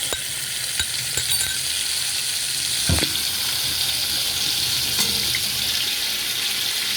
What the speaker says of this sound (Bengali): দেখুন আদা আর কাঁচা লঙ্কাটাকে দিয়ে দেবো।